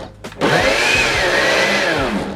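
A NutriBullet blender whirs into action on a banana smoothie after a brief clatter, holding a loud, steady high-pitched motor whine that slowly shifts in pitch as the fruit breaks down.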